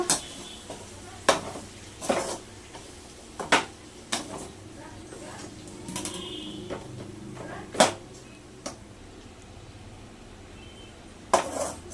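Chicken legs are stirred with spice powders, including coriander powder, in a pan: a spoon clinks and scrapes against the metal at an irregular pace, close by, over a faint sizzling background.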